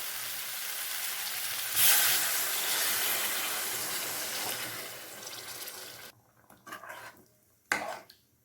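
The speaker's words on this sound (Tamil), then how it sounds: "இப்போ தேவையானது தண்ணி சேர்த்துக்கலாம்" Water poured into a pan of chicken gravy, a loud rushing splash over hot sizzling that fades, followed by a few softer clanks and stirring noises near the end.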